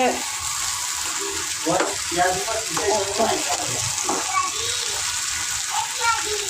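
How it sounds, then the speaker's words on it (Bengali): Taro leaves fry in a pan with a steady, close sizzling hiss, with intermittent stirring and a voice talking over the cooking throughout. "কচু শাক ভাজা হচ্ছে বন্ধুরা।"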